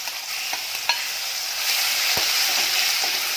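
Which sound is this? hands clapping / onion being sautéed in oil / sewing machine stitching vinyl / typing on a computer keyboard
onion being sautéed in oil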